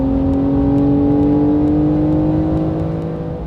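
A 992-generation Porsche 911 Carrera S on the empty Madras Motor Racetrack gives a loud, close, steady engine drone with a slowly rising pitch, fading slightly at the end, no talk.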